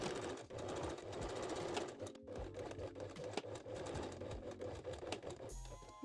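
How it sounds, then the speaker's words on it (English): A regular domestic sewing machine stitches the crotch seam of a reversible bikini bottom, its rapid mechanical whirring running steadily and close for several seconds before cutting off near the end. "I will use just a regular sewing machine today, no serger"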